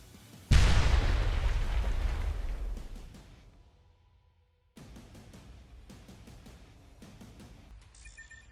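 A loud, deep explosion from an airstrike on Russian positions and an ammunition depot booms close, its rumble fading over a few seconds, then a second blast follows with a sustained roar and sharp crackling.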